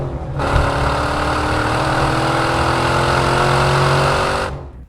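Corvette C engine fitted with a Borla exhaust idles and revs in a continuous loud, deep drone of about four seconds, starting and stopping abruptly.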